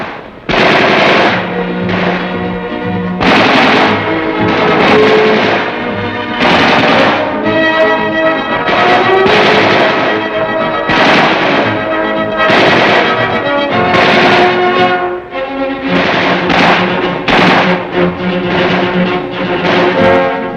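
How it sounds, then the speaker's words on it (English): Infantry rifles fire on a firing range in dense, overlapping volleys and rapid bursts, loud and close, continuing without pause throughout. "On the firing ranges, the men get a workout with the new weapons."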